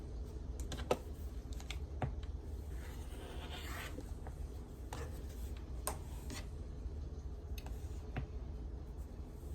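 Quilt fabric for a blue ribbon weave quilt is trimmed a quarter inch from the stitching, with scattered sharp snips and light clicks of a cutting tool over a low, quiet room hum.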